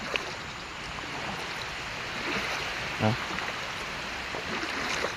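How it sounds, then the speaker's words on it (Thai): Water rushes hard over a small overflow weir, giving a loud, steady broadband roar that fills the whole clip, with a brief thump partway through. "น้ำฝายโอ้หลายแรงอยู่นะ"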